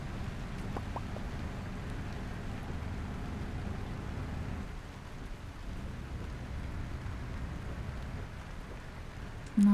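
Steady rain pattering in the video game Euro Truck Simulator 2, a continuous soft hiss with low rumble, even and unbroken throughout.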